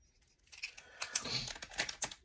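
A marker writes a number on a cash-stuffing envelope in a series of quiet, close scratchy strokes and taps, coming in short irregular bursts.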